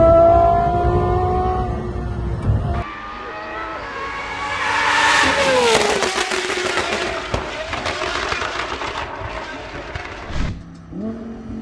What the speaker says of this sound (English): At number 2, the Gordon Murray T50 V12.